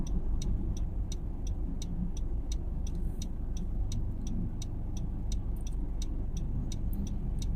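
A car's engine idles and rumbles steadily nearby as it is moved out at home, a continuous low drone with a regular high ticking over it, no voices.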